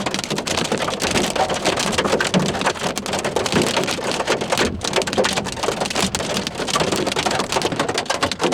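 Heavy hail and rain pelt a car during a severe storm on a May chase, a dense, continuous roar of impacts drumming on the body with faint thunder beneath, no talking.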